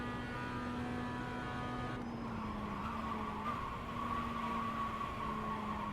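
Race car at wide open throttle on the front straight of Lime Rock Park, a steady loud engine drone held throughout with a brief pitch shift midway and no talk.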